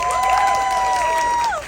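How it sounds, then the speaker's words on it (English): Audience at a live podcast event in New York claps and cheers, a sustained high whooping voice riding over the crowd noise before fading at the end. "Give them a round of applause."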